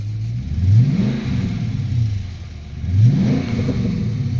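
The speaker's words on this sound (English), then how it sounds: "Let's rev it up." A 2013 Dodge Charger R/T with a rebuilt 5.7-liter V8 and Flowmaster exhaust revs twice, deep rumbling surges rising and falling over a steady idle, loud and close, no talking.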